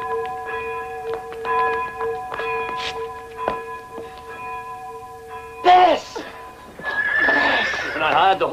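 A horse whinnies loudly partway through, following ringing bell tones, with voices and a busy outdoor bustle after it.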